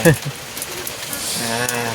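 Steady rain pouring down outdoors around a house, a dense continuous hiss that holds throughout, with a brief voice-like sound near the start.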